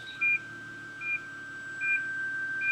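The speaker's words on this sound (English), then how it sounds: "It's just really loud. Just ignore the beeping." Short electronic beeps from a Lexus parking sensor repeat roughly every second, with a constant high tone and a quiet engine hum underneath.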